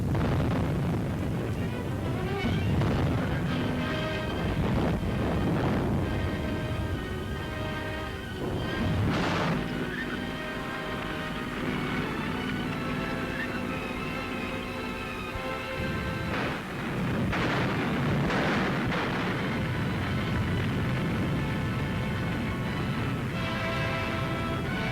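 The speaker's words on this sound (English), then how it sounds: "The Germans' own guns, captured, were now turned against them." Artillery fire from captured German guns turned back on German forces in the Ardennes fighting, heard as loud, continuous booming and rumbling with several sharper blasts spread across the stretch, apparently under a musical or narration soundtrack.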